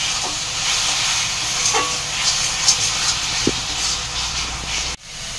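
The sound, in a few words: sautéing chana matar masala with turmeric in a pan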